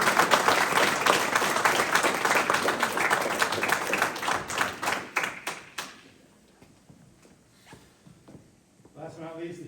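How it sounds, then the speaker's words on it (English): Audience applause at a city council meeting honors the Firefighter of the Year, dense clapping for about six seconds that thins into scattered claps, then quiet with a voice speaking at the end. "please give Roger Carter a round of applause for being selected Firefighter of the Year"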